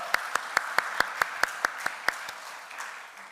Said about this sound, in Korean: 우리 큰 박수로 한번 축복하고 격려하겠습니다